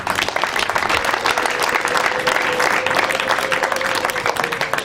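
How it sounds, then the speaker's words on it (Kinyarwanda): A crowd at a Rwandan engagement and dowry ceremony applauds in praise of God, with dense, sustained clapping that keeps a steady loudness throughout and a faint voice underneath. "Munyemere dukomere Imana amashyi."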